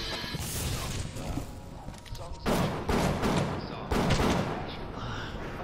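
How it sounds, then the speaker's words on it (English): Bioshock gunfire crackles in rapid repeated bursts with several loud cracks, set against dense game noise while people talk over it. "Really doing a lot of gun stuff here."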